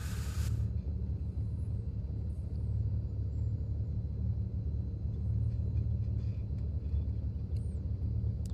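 A simulated Socata TB21 Trinidad piston engine idles in Microsoft Flight Simulator, a steady low droning rumble holding constant at moderate level with no variation throughout.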